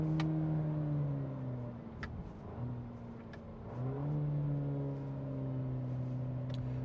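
A 2022 Cadillac CT4-V drives through a corner, its engine a steady drone that dips and rises with the throttle, heard from inside the cabin and fairly quiet, with no one speaking.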